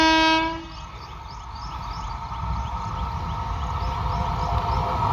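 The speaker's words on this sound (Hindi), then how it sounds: "ऑलरेडी ट्रेन आसुछि कोंटा यार तुरकेला यानी रायपुर जीवार लाइन" A train on the Turkela to Raipur line approaches after a loud horn blast at the start, then a continuous rolling rumble builds with rhythmic wheel clatter as it nears.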